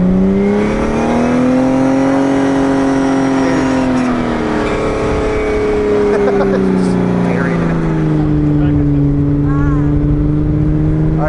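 A Jeep driving in snow, its engine revving loud and close with rising and falling pitch as the throttle is held, while people talk over it.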